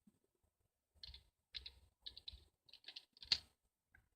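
Computer keyboard keys tapped in short clustered bursts as a command is entered, crisp close clicks separated by brief pauses, with a sharper final keystroke near the end.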